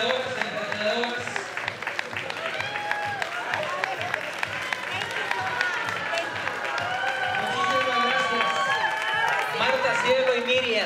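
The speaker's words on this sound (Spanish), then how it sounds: "De verdad, aplausos para ellos" Audience at an expo runway show claps steadily and continuously throughout, a dense patter of many hands, while a voice talks over the applause.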